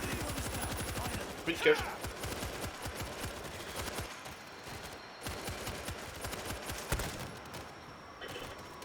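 Rapid machine gun fire in the co-op zombie shooter World War Z, a dense stream of shots running throughout with a louder burst near the start, under a player's casual talk.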